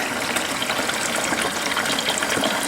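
Water gushes steadily into a container holding aquarium wood being cured, a close, continuous pouring rush with no talking.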